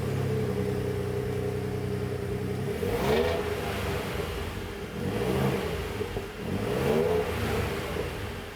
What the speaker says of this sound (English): let's fire it up and we're gonna hear how the stock exhaust sounds